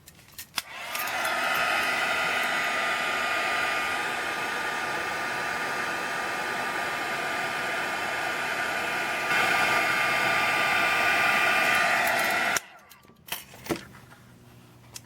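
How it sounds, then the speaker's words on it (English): An embossing heat tool blows a steady, loud roar while heat-setting embossing powder on cardboard, running continuously for about twelve seconds before cutting off, followed by a few small handling clicks. "And now we'll heat set the embossing powder on the cardboard."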